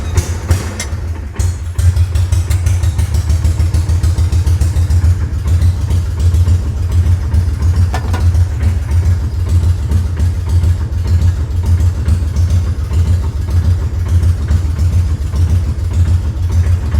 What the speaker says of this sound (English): She's running. The motor sounds healthy